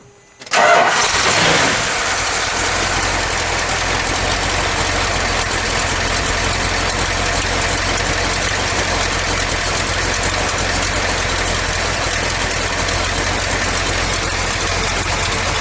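A 1970 Dodge Challenger R/T with a 440 V8 cranks and catches in cold weather, then settles into a loud, steady, rumbling idle that runs on alone without pause.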